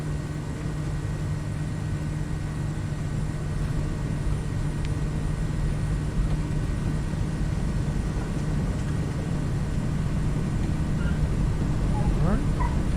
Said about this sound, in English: Plane's already trying to take off